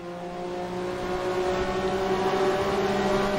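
BMW M1 race car in Assetto Corsa at 1985 Le Mans, its engine droning steadily with a slowly rising pitch as it accelerates, close and continuous.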